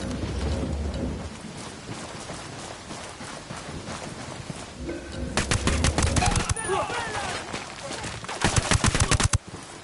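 Bursts of rapid automatic gunfire in a Ghost Recon shootout, sparse at first and then two dense, loud volleys of cracking shots in the second half, layered over a rumbling background.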